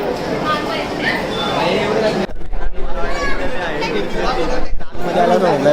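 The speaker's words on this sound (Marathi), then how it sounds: "इथं पण एवढी गर्दी आहे" A dense crowd at the Ganpatipule temple on the Konkan coast forms a loud, close babble of many voices that carries on throughout.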